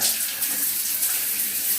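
A household shower runs at strong pressure, giving a loud, steady hiss of spraying water close by with no voices.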